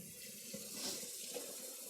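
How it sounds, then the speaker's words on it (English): Tap water runs steadily into a cooking pot as it fills, a soft continuous rushing and splashing at close range with no voices. "So I'm gonna fill this pot of water up about 3/4 of the way."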